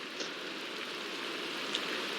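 Steady rain falls in a Minecraft game world, a continuous even hiss of drops with a few brief brighter taps, no voices.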